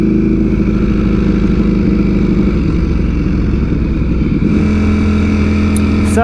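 A Ducati StreetFighter V4S motorcycle rides off, its engine droning steadily and loudly up close with continuous road and wind noise, shifting tone near the end.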